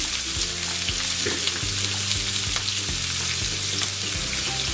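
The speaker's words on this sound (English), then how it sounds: "looks like they're sizzling" Ingredients for baingan bharta, an Indian roasted eggplant mash, sizzle and crackle in a hot pan, with a bright steady frying hiss and scattered pops and occasional stirring clinks close up.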